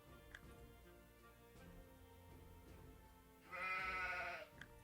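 Sheep bleating in the city-builder video game Citizens: Far Lands, one loud wavering bleat standing out over quiet game music and soft ticking clicks.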